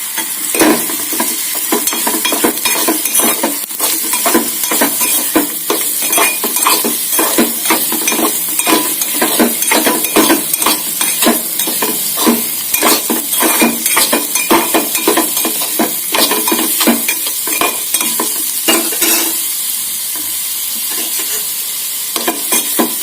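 Boiled sweet potato pieces are stir-fried in a pan, with a continuous loud sizzle and rapid repeated scraping and clinking of a spatula throughout.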